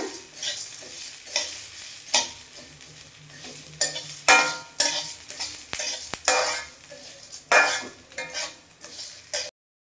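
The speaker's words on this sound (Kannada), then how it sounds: "ಚೆನ್ನಾಗಿ ಹುರಿಬೇಕು ಒಂದು ನಿಮಿಷ ಉದ್ರೆ ಸಾಕಾಗ್ತದೆ" A spoon stirs moringa chutney powder spices with garlic roasting in a pan, making repeated scraping strokes in an irregular rhythm over a faint, close sizzle, with no talk.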